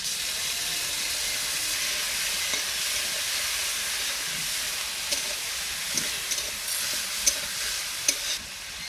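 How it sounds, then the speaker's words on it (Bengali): Sliced onions with whole green chillies sizzle steadily in fish oil in a pan, a close continuous hiss broken by a few sharp scrapes and clinks of stirring near the end. "পেঁয়াজগুলো ভাজা হয়ে গেছে, এবার আমি মাছের তেলটা দিয়ে দিচ্ছি"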